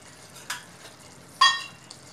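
Kadhai chicken with kasuri methi being stirred in a pan, two short scraping strokes over a faint sizzle, close and brief, with no talking.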